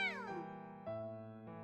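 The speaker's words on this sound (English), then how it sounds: "kitten meows at us like he's cheering us on" A kitten named Kibby in a video game meows in a series of clear, tonal cries, a sliding meow followed by two sustained ones, close and alone over the game sound.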